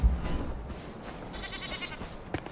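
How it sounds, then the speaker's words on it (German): Goats bleat in the video game Enshrouded, a short nasal bleat rising over low ambient game sound, moderately close, with no talk over it. "Die Ziegen laufen ja auch rum."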